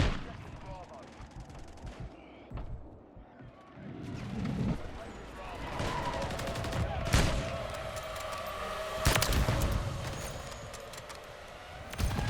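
Gunfire in the Call of Duty Modern Warfare 3 video game, with repeated loud bursts and sharp shots rising and falling over a dense background of battle noise, plus a few heavier blasts and a distant siren-like tone.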